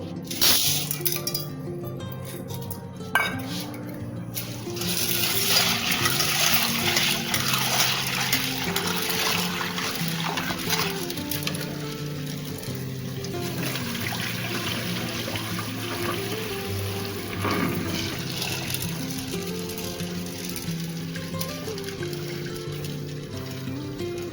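Chana dal being rinsed in a bowl of water, with clinking of lentils against the bowl, swishing and trickling water, fairly close and moderate in level, continuous and without talk.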